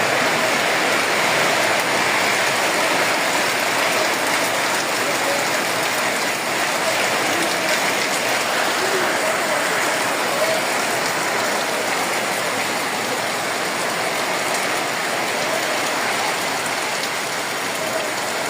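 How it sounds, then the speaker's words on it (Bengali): Steady rain falls throughout a storm, a dense, even broadband hiss with fine pattering drops on surfaces, continuous and fairly loud with no voices. "বৃষ্টি এখনো আছে।"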